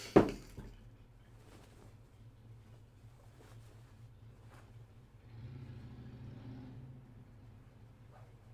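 Distant street traffic rumbles low and steady, with one vehicle swelling past around the middle and fading away again; no one speaks.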